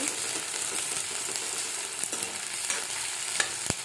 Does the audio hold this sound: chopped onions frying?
yes